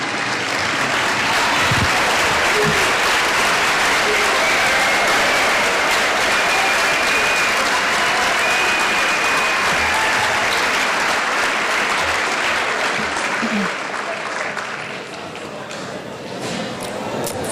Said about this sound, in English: I will be calling out a group of athletes and asking them to please stand so we can give them all a round of applause